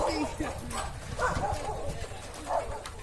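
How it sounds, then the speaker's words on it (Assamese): A dog barks in short, sharp bursts on a village road during a bicycle ride, the yaps spread over a few seconds and partly mixed with nearby voices and background road noise. "কুকুৰ এটাই আমাক সদায় ধৰে গাইজ"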